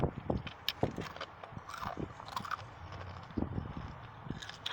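Crisp crunches and chewing from biting into a Volcano Queso Takis rolled tortilla chip, several sharp close bites followed by softer munching.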